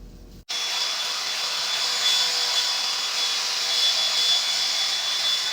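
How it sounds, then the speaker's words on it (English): A Revlon hot air brush blows steadily as it is run through a human hair wig, a loud, continuous whooshing airflow with a faint whine that switches on abruptly and holds for several seconds with no talking. "I'm just gonna run the Revlon through it after I put this on."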